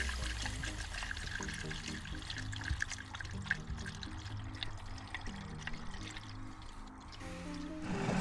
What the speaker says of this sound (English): as you pour it in, it will drain down and then you just keep going